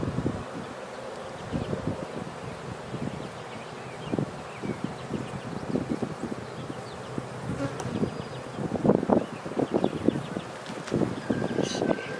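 Honeybees buzz steadily around an opened beehive being split, a dense insect drone with louder passes of individual bees close by, and no speech over it.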